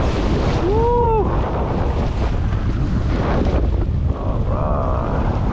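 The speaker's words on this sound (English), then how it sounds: "Oh yeah, these are gnarly waves." Big storm waves and strong wind buffet a kayak at sea, a loud roaring wash with heavy wind noise on the microphone, and a brief whooping voice early on.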